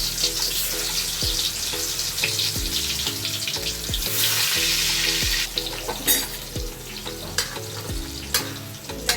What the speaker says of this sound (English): The oil is hot. Now I will add the potatoes into this.